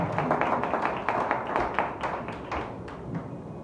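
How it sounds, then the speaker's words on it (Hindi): A church congregation at a Sunday gospel service claps together in a brisk rhythmic stream of sharp hand claps, fading somewhat toward the end. "आइए जोरदार तालियां करें"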